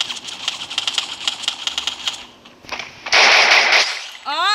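Gunfire in the mobile battle royale game Free Fire: rapid cracking shots in quick succession, then a dense burst of noisy fire, with a short rising whistle-like effect at the end, heard under game sounds.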